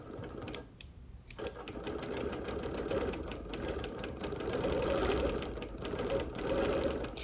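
A sewing machine needle free-motion quilting a show quilt runs in a steady, continuous mechanical whir with a brief pause near the start, then carries on close and fairly loud without talk.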